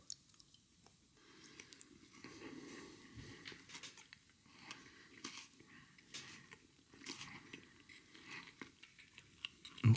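Someone eats a chewy chocolate bar with biscuit pieces and caramel, close and quiet: soft, sticky mastication with small crunches and wet smacks running steadily throughout.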